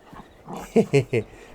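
A dog in the farming video game Farming Simulator 22 gives three short, loud barks in quick succession, close up, after a softer stretch of low growly noise.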